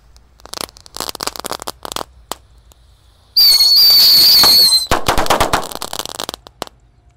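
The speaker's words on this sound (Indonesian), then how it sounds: "ada mercon tikusan tor, kita nyalakan bosku" Ground spinner firecrackers pop in rapid irregular bursts, then a spinning firework shrieks with a loud rising whistle for over a second before sharp crackling resumes.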